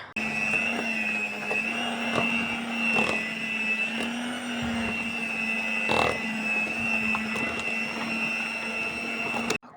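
A kitchen mixer whips cream together with homemade mascarpone cheese, a steady loud motor whine with a sustained tone and periodic clatter of beaters, continuous and close with no voices.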